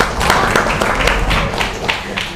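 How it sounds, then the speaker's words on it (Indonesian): A classroom group gives a short burst of applause, dense clapping from many hands close by for about two seconds. "Sekali lagi tepuk tangan dong."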